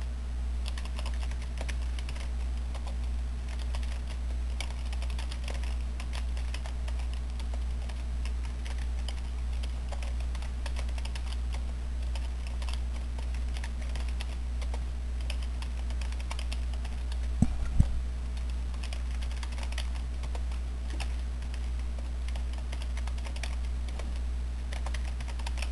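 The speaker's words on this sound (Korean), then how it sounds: "글씨를 입력해 보도록 하겠습니다" Steady typing on a computer keyboard during a Korean computer tutorial, while entering text into a design program; continuous close, even key clicks with a constant low hum beneath and no talking.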